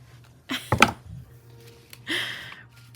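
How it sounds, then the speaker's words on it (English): Scissors trimming paper along a curve for a junk journal, heard as two short, close, crisp snips with faint rustling between them and no talk. "let me just trim this right here really quick"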